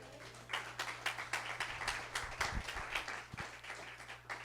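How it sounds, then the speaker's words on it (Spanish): A church congregation applauding during a Spanish-language sermon: scattered, uneven hand claps from a crowd, fairly faint and distant, rising and falling over a low steady hum. "¿Alguien le da un aplauso al Señor?"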